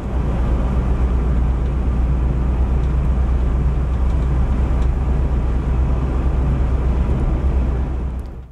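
A UAZ Hunter driving at 60 km/h with the heater fan running, heard from inside as a loud, steady low engine drone and road rumble mixed with fan whoosh, unbroken until a quick fade at the end.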